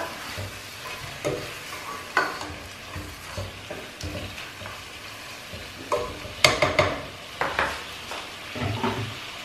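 Chicken pieces sauté in a hot pot for chicken tinola, a steady sizzle broken by repeated scraping stirs and clanks of a utensil against the pot, close and clear with no talk.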